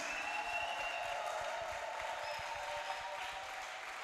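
A church congregation claps together after a sermon, a dense, steady wash of applause that holds at an even level throughout, with faint voices underneath.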